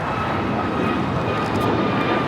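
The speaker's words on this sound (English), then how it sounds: "That is WestJet 1101 taking off to Toronto on a MAX 8" A WestJet Boeing 737 MAX 8 jet takes off at LAX bound for Toronto, its engines a loud, steady broadband roar that holds without pause throughout.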